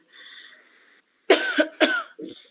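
A few short, harsh coughs in quick succession, close and loud, after a faint hum and a brief pause.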